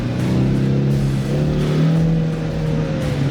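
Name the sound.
Ford Mustang GT car driving through slalom turns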